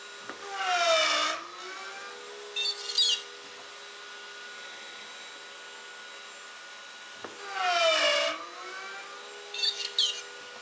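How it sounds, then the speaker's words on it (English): A Maksiwa PHM 3.0 pocket hole machine cuts birch in two short bursts, each a rising whine with a brief follow-up rasp, over a steady background hum. "Let's go ahead and cut the birch."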